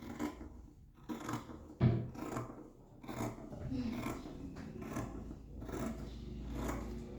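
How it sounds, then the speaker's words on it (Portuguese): Scissors snip through fabric in short rasping cuts, part of sewing a felt doorstop, with a voice speaking nearby between the cuts. "E cortar o tecido."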